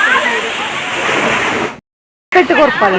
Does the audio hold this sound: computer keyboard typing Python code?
no